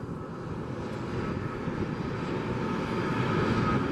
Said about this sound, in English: We got an Airbus A320.